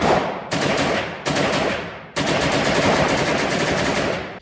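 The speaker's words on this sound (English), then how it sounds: "One squeeze of the trigger back, it goes off. You let off the trigger, it fires another shot." A Century Arms AP5 rifle fitted with a Franklin Armory BFSIII binary trigger fires loud, rapid bursts outdoors. The shots come in three quick strings, the last one long and continuous, then stop.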